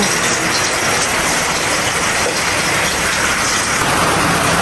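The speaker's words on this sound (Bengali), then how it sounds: "আজকে ডাল রান্না প্রেশার কুকার রান্না করবো ডাল আজকে" Pressure cooker steaming as dal cooks on the stove, with a loud, continuous hiss that holds steady throughout and no talking.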